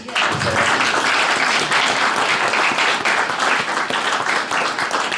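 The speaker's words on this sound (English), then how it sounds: "I think you should give Patrick a clap." An audience claps for a guest named Patrick at a gathering, a full, steady round of applause from many hands that stays loud throughout the few seconds.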